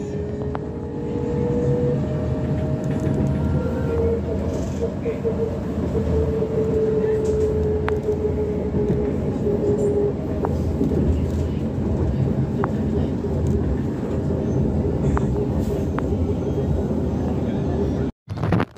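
A tram rumbles along steadily with a rolling, droning hum and faint squeals, continuous throughout, ending with a brief clunk near the end.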